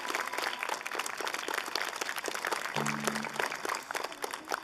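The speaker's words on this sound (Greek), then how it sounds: "Ένα μεγάλο χειροκρότημα αξίζουν όλα τα παιδιά που συμμετείχαν στο σύνολο το μουσικό." Sustained applause from a crowd for children who performed in a music ensemble, dense overlapping claps at a steady moderate level, with a brief low hum partway through.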